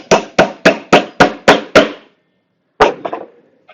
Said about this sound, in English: I'll start here and I'll nail away from that later on